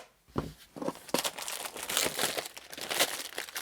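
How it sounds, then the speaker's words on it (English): Crinkly plastic packaging is pulled off a French army ration, a close, busy run of crackling and rustling bursts with no talk. "Get the crackly plastic the heck out of here."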